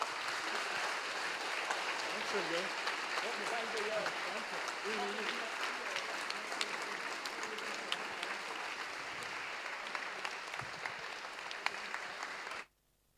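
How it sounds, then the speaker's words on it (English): A large audience gives long, sustained applause at a student racing team's car rollout event, dense steady clapping with a few voices underneath before it cuts off abruptly at the end. "I ask for a big applause"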